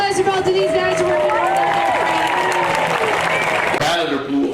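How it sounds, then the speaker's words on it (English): Outdoor crowd at a lumberjack festival applauding competitors, steady clapping and cheering held throughout under voices and talk, fairly close and full. "can I get a big round of applause for both of these guys working"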